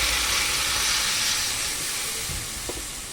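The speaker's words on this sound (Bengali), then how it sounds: "এবার জল দিয়ে দেব" Water poured into a pan of fried spices for a fish curry with elephant foot yam, a loud burst of steaming hiss that gradually fades over a few seconds, close, no talk.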